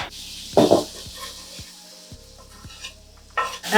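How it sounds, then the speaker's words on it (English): Garlic added to a pan of sautéing vegetables for meatball tortellini soup, a soft sizzle running under a few stirring scrapes and utensil knocks against the pot. "I'm gonna have Joe go ahead and add the garlic, let that brown up"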